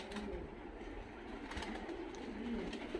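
Faint, soft cooing of pigeons in a loft in Tbilisi, Georgia, low murmuring calls repeating quietly against a steady background hum.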